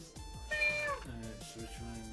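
Mickey, a pet cat, gives one clear, close meow with a rising-then-falling pitch, set over steady electronic game music with a repeating low beat.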